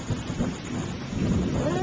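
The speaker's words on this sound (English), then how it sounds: "You can literally, like, hear the rain pouring down." Heavy thunderstorm with rain pouring down, a steady dense roar of rainfall and low rumbling thunder filling the space continuously and fairly loud, with no voices.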